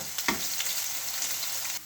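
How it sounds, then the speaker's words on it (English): Onions fry in a hot pan with a steady, close sizzle, broken by a few scraping stirs of a utensil against the pan. "Okay, so we're going to add the onions. Let those warm"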